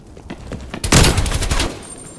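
Gunfire in the multiplayer shooter Call of Duty: Black Ops Cold War on PS5, a loud rapid burst of shots lasting under a second, preceded by lighter rattling shots.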